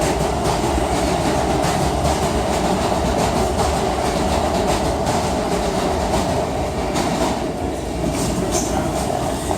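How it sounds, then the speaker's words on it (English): A loud, continuous rumble of a train rolling past in a train station, with rhythmic clatter of wheels on rails and a steady mechanical drone. "I'm in the train station. I'm going back to Albany."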